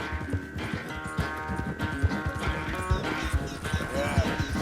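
Horse hooves in Red Dead Redemption 2, a steady rhythmic clip-clop of a horse moving at pace, close and clear, with a brief whinny near the end and voices talking over the ride.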